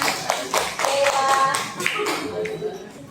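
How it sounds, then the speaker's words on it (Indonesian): A classroom audience claps for a student presentation group during a teaching session, with a burst of many hands at moderate distance and voices talking over it. "Tepuk tangan buat kelompoknya."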